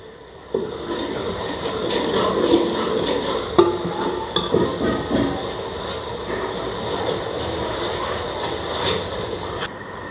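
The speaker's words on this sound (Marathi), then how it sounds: "पेस्ट कोथंबीर आपण टाकून घेऊया ते व्यवस्थित हलवून घेऊया" Coriander and spice paste frying in a pan for a homestyle chicken curry while a spoon stirs it, with a steady close sizzle broken by occasional scraping knocks and clinks.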